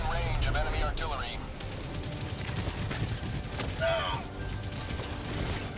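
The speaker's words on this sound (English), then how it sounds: "Warning, you are in range of enemy artillery." Enemy artillery and gunfire in Helldivers 2 form a dense, continuous barrage of booms and shots that stays loud throughout, with voices shouting over the battle.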